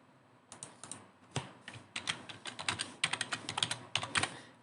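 Quick keystrokes clatter on a computer keyboard as parameters are typed into Delta PLC programming software, an uneven run of close taps that speeds into dense bursts, with no talk.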